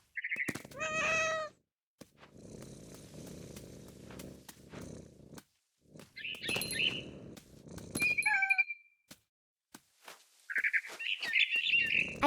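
Bird calls from What Remains of Edith Finch: a mother bird's bright chirps and tweets in short separated bursts, alone, with a louder, rougher cry at the start and scattered sharp high calls through the rest.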